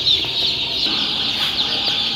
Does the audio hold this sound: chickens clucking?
yes